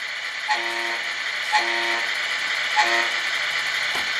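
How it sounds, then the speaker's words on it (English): Horn from the sound unit of a Tamiya 1/14 Ford Aeromax RC truck, three short air-horn blasts with gaps between, played over a steady electronic engine idle through a small speaker, no talk. "our horn works."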